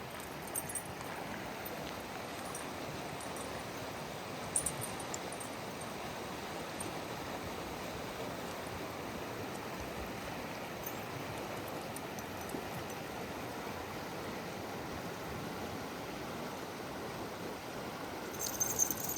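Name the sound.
Sauk River flowing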